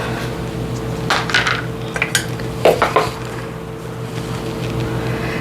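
A spoon stirring raisins and flour into dough in a bowl, giving a few scattered clinks and scrapes of utensil against the bowl, close and fairly clear over a steady low hum.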